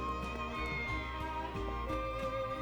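A cat meows in the video game Triangle Strategy, soft and brief over a steady bed of layered game sounds that continues throughout.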